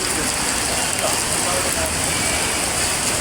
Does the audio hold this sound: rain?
yes